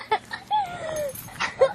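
A new puppy whimpers close by with several short, high whining cries and one longer drawn-out whine, soft and intermittent, with faint background noise.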